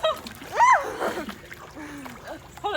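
Close splashing and sloshing of pool water mixed with slime as people tread water, with loud excited voices and squeals talking over the uneven splashes.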